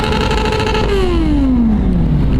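A Honda Super 4 motorcycle engine revs hard and loud nearby, its pitch sweeping steadily downward as the revs fall away, with a rough, throaty roar throughout and no talking.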